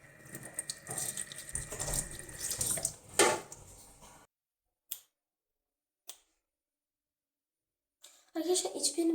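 Tap water runs into a sink while a face is being washed, a steady splashing flow for about four seconds, then brief drips and splashes before the water starts again.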